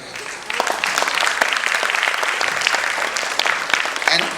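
An audience applauds the makeup artist team at a dance performance event, dense sustained clapping that swells after a brief quieter start and holds loud to the end.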